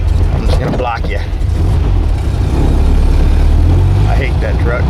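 A truck engine runs steadily in a driveway, a loud continuous low rumble that holds throughout while a person talks over it.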